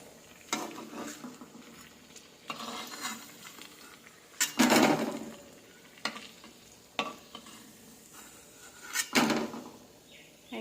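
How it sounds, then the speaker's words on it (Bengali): Potato chops frying in oil keep up a soft background sizzle, broken every couple of seconds by louder scrapes and clatter of a spatula or slotted spoon against the pan. "এই চপটা ভাজা হয়ে গেছে"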